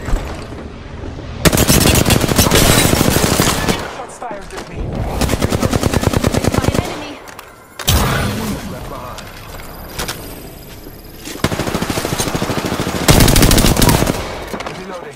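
Gunfire from the video game Apex Legends, with long bursts of rapid automatic fire and clattering weapon mechanisms, separated by short pauses. Loud and close, with game voice lines mixed in.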